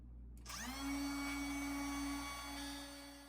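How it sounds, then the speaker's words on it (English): A wood router cutting finger joints into the side of a walnut box spins up to a steady, loud motor whine that holds without a break. "after setting the depth of my router to be just a hair longer than the width of the board plus the length of the fingers, I went on to cutting into the next side"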